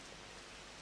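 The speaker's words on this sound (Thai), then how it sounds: "โอ้ฝนก็ตกอยู่นะ" Rain falling in a steady, even hiss with no distinct drops, continuous and fairly faint throughout a very brief stretch with no talk.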